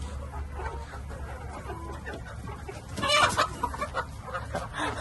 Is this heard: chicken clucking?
yes